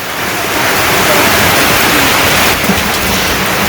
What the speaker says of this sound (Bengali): এই বৃষ্টি যাওয়ার না, আরও বৃষ্টি হইব